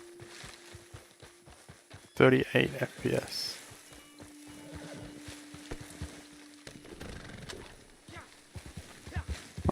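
Horse hooves clip-clopping in Red Dead Redemption 2, a burst of rapid hoofbeats followed by steadier trotting steps, with someone talking over parts of it.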